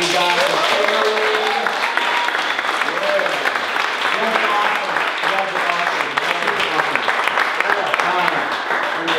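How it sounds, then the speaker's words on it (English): Audience applause for a group on stage at a motivational event, dense and sustained clapping filling the whole stretch, with voices and cheers mixed through it. "big round of applause for you guys."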